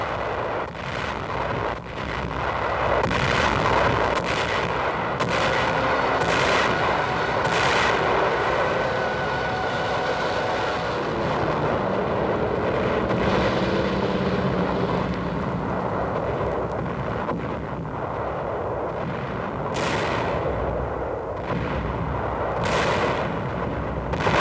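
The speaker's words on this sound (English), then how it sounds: "The shelling of the island continues" Naval shelling and bombing of Peleliu island, a continuous loud rumble of heavy explosions and artillery fire with repeated sharp blasts rising over a dense, roaring wartime din throughout.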